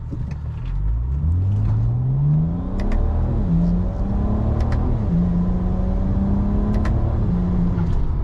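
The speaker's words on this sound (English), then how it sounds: "So I'm just going to do a 3/4 throttle sort of mid-load shift." A BMW E90 335i with a 6HP21 six-speed automatic accelerates at three-quarter throttle, its engine rumble climbing in pitch, then dropping at each upshift, repeated twice, loud and steady from inside the car.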